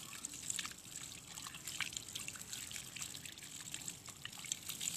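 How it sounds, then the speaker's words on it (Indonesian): Hands rinsed under running tap water, a steady soft splashing trickle with scattered drips, heard faintly and alone with no voices. "Lalu bilas dengan air mengalir."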